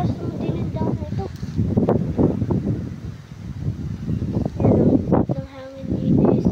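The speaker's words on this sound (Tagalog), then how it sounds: "Ang hangin din eh sa Batangas City." Wind buffets the microphone on a high mountain in Batangas City, a steady blustery rumble with gusts, while people talk over it.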